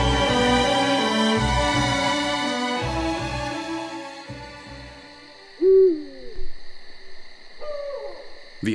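An eagle owl hoots at night on the Iberian Peninsula, two deep, loud, isolated hoots a couple of seconds apart as fading music gives way to darkness and silence.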